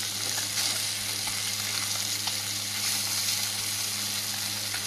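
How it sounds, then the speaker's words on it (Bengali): Small chuno fish fry in hot oil in a home kitchen, a steady close sizzle and crackle running throughout with a low background hum and no talk. "চুনো মাছগুলো ভাজা করে নিচ্ছি,"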